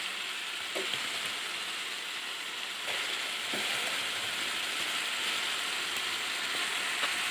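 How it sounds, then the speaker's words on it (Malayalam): Garlic, ginger and green chilli paste frying in a pan with tomatoes for chicken biryani, a steady close crackling sizzle with occasional small pops, no talking. "നമുക്കിതിലേക്ക് വെളുത്തുള്ളി ഇഞ്ചി പച്ചമുളക് പേസ്റ്റ് ഇട്ട് കൊടുക്കാം"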